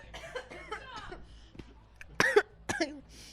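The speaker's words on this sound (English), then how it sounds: "She's still coughing." A few sharp, harsh coughs burst out near the end, following softer vocal sounds and breathy noises; close and fairly loud.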